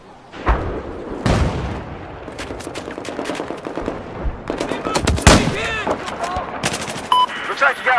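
Machine gun fire in a video game battle, sharp rapid bursts of automatic shots and booms in the foreground, mixed with other game effects and distant radio-style chatter.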